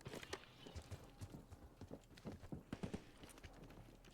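Footsteps of someone walking nearby in a video game, a steady run of soft thuds with a trotting rhythm, faint and distant under a low background.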